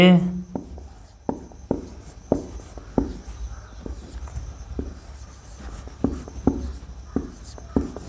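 Marker or chalk strokes on a board during a math lesson, a series of sharp taps and scrapes at an uneven rhythm, close and fairly loud, with a brief voice at the start.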